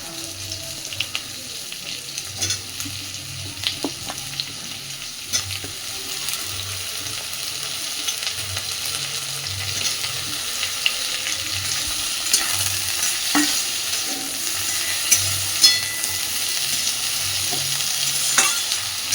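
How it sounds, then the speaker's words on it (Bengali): Brinjal being stirred into a pan with bitter gourd for a vegetarian dish, a steady gentle sizzle broken by scattered scraping and clinking of the spoon, close and fairly quiet. "এবার আমি এর মধ্যে বেগুনটা দিয়ে দিচ্ছি।"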